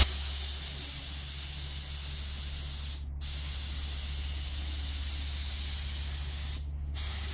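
Close, steady hiss of a spray gun laying a misty primer coat on a car fender, two long passes broken by brief pauses, over a low constant hum of the spray booth or compressor.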